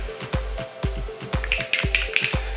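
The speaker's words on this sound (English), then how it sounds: "So I'm using the Dior, the spray foundation" Dior spray foundation in shade 201 misted from its can during a makeup routine: several short, close hissing bursts crowd the second half, mixed with soft taps and low thumps.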